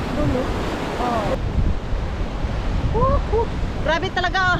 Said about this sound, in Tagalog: Grabe talaga oh, hangin sa ano, tabing dagat.